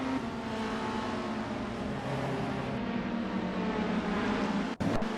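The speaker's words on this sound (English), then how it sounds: "The engines are revving" Race car engines from 1960s prototype sports cars drone continuously at La Sarthe, Le Mans, in an AI-driven racing video game, a steady loud roar with a brief dip near the end.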